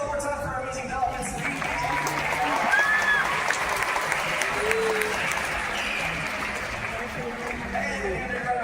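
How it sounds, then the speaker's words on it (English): Audience applause at an aquarium dolphin show, a sustained crowd clapping that swells and fades over several seconds, with cheering voices mixed in. "let's hear one more time for our amazing dolphins"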